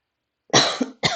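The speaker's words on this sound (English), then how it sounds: "Sometimes stretching the throat makes me cough." A single person coughs twice close up, a harsh burst followed by a shorter second one, in an otherwise quiet room.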